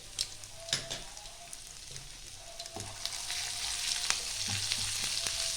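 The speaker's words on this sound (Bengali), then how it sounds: "একটু হালকা করে ভেজে নেব, বেশি ভাজার দরকার নেই।" Chopped garlic and ginger sizzle steadily in hot oil, a continuous close frying hiss with a few light clicks and scrapes, no voices.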